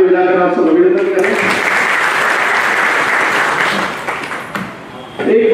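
Sustained applause from an audience at a police retirement felicitation ceremony, a dense wash of many hands clapping that swells in after a brief spoken line, holds steady, then tapers as a voice returns at the end.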